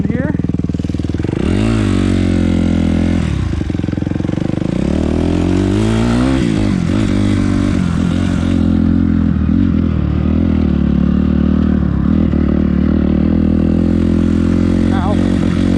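Suzuki RM-Z250 dirt bike ridden on a woods trail, loud close engine revving up and down through gear changes, with clattering and scraping from the rough ground.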